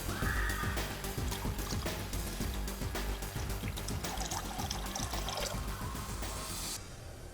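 Soda poured into a glass of rose lemonade already mixed with lemon juice and salt, a steady close fizzing splash running several seconds before stopping.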